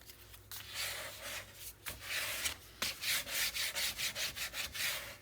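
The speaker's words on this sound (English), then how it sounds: "A good burnish." Close, brisk rubbing strokes burnish tape flat. They start as longer scrapes and speed into an even run of short, regular swipes, with no voices.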